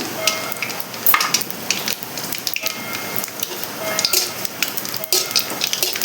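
A spoonful of black cumin seeds hits hot oil alongside whole dried red chillies, producing a loud, dense, continuous sizzle with crackles and spitting pops, close by and without speech.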